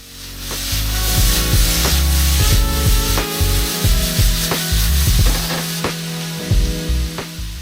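Ahi tuna chunks tossed with everything bagel seasoning, minced garlic and scallions in a bowl, giving a steady wet, rubbing clatter of close, loud mixing strokes with rhythmic scrapes and knocks throughout, with no talk.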